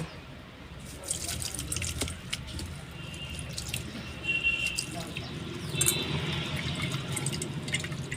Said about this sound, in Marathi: आता ही कोथिंबीर धुवून घेऊया स्वच्छ